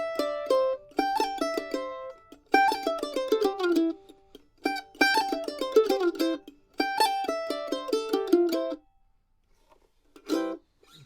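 Mandolin phrases with a pull-off followed by an extra pick stroke, giving quick triplet-like groups of bright plucked notes, played in four bursts with short pauses between, then a single struck note after a brief silence.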